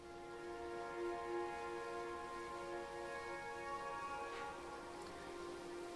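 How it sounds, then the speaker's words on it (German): Soft, steady rainfall from the space-program strategy video game Mars Horizon, a faint continuous patter beneath sustained musical tones, with no one talking. "Ah, es regnet. Nicht gut."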